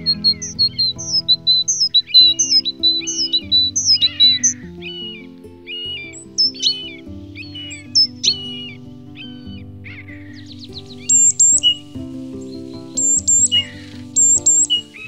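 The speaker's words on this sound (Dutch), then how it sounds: "Het is half maart en twee buizerden maken hun balsvlucht." Two common buzzards call during a mid-March courtship flight over the Donge area, giving repeated high, thin mewing cries in clusters over soft background music.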